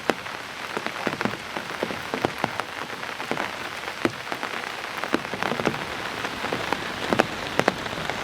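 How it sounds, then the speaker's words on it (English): Heavy rain drums steadily on a camping tent, a dense close patter broken by frequent sharper drop impacts, with no voices. "It looks like the rain is returning"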